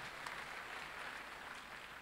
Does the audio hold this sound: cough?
no